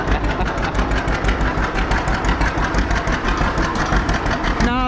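A John Deere B tractor engine with a straight pipe chugs loud and close in a steady, rapid pulsing rhythm. The engine note shifts briefly into a rising tone at the very end.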